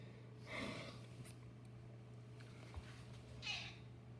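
A house cat meows twice, a soft drawn-out call followed a few seconds later by another, faint and close in a quiet room with a low steady hum.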